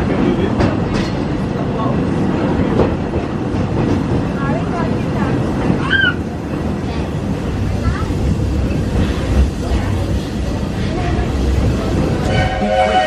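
A Disney World Magic Kingdom theme-park train rumbles steadily along the tracks with a continuous rolling roar and faint rail clatter, a few brief squeals rising above the noise.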